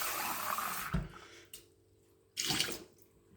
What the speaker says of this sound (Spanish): Limpiamos un poquito, enjuagamos.